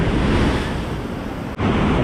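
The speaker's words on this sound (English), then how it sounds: "check out how big some of these waves are coming over here" Big ocean waves crash and surge against rocks at a Bali beach, a loud continuous rumbling wash with heavy wind buffeting the microphone and a brief dip before the roar resumes.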